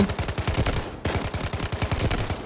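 MK47 rifle in the shooter game Delta Force fired in two rapid automatic bursts, loud, close and evenly spaced shots with a short pause between bursts.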